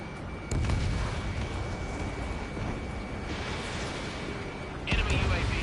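A missile fired from a fighter jet in the combat flight game Ace Combat 7, a loud whooshing burst over constant engine roar, with a second rushing blast near the end.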